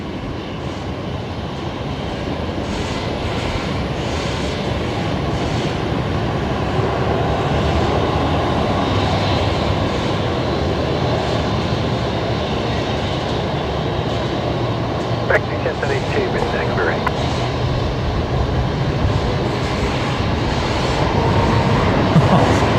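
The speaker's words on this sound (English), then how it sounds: "Qantas Link 1863 is just about to touch down as well, coming in from Townsville today" Qantas Link airliner inbound from Townsville touching down at Brisbane Airport, a steady broadband jet roar with low rumble held loud throughout, rising slightly toward the end; voices may be faintly present.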